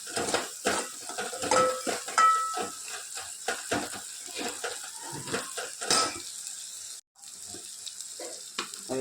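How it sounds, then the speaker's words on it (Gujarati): A metal spoon presses and scrapes tomatoes in a pot of sizzling spiced masala, with repeated clinks and knocks against the pot over a soft frying hiss. "ટામેટા આપણે થોડાક આવી રીતે ચમચા વડે દબાઈ દઈશું."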